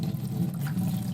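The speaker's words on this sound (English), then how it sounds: "You're going to fill your pot to the first line with water." Water pours steadily from a faucet into a cooking pot, a full, continuous rushing fill close by with no talking.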